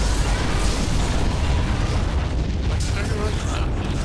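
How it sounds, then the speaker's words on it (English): A destroyed Romulan ship exploding in the video game Star Trek Legacy, a loud, dense, continuous rumbling roar with crackling bursts, heavy and sustained throughout, with speech likely mixed underneath. "Romulan target destroyed."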